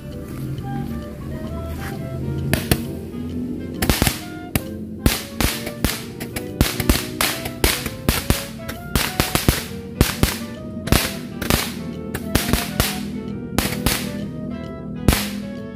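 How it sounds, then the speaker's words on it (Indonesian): Four magic balls firecrackers lit together go off in a long, dense series of sharp bangs and pops, some clustered, over a steady crackling background during a Ramadan fireworks session. "yang selanjutnya kita nyalakan petasan magic balls"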